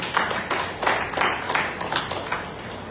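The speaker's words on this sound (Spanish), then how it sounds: "Puede dar un fuerte aplauso al Señor Jesucristo," A church congregation at a Pentecostal service claps together in a loud, sustained round of applause, with a steady crackle of many hands and rhythmic surges throughout.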